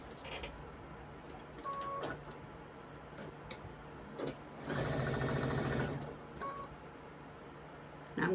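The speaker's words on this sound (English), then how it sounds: "I'm going to sew my first vertical border on." A sewing machine stitching a vertical border onto a quilt runs in a steady burst near the middle, with shorter mechanical whirs and clicks on either side and a fan humming underneath.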